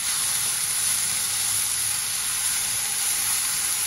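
Fenugreek leaves and garlic sauté in a hot pan, giving a loud, steady, unbroken sizzling hiss with no voices.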